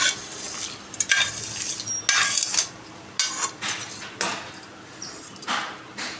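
Chilies tempered in hot oil for tomato chutney, a light sizzle under repeated scraping and stirring of a spoon against the pan, close and uneven in rhythm.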